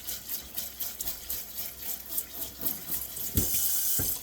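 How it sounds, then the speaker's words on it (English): Water from a tap runs over a lucky bamboo plant in a quick rinse, a steady splashing hiss that stops for a moment, then comes back with a few louder splashes near the end. "You're going to give it a quick shower."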